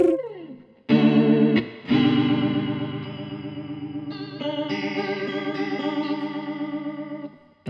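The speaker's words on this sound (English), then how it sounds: "A swirling sound." Guitar chords played through a Vahlbruch chorus pedal ring out with a thick swirling shimmer, a couple of struck chords at the start followed by long sustained ringing notes, loud and without speech.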